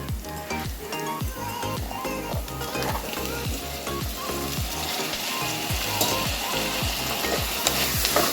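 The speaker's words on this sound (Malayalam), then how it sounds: "നമുക്ക് പപ്പായ ഇട്ട് കൊടുക്കാം" Onion and raw papaya pieces sauté in a hot pan with a steady sizzle, broken by regular scraping and stirring strokes of a spatula.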